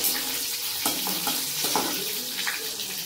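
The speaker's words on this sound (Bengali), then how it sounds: "রসুনটাকে একটু ভালো করে ভেজে নিই আগে।" Crushed garlic fries in hot oil with a bright continuous sizzle, broken by several stirring clacks against the pan, heard up close without any talking.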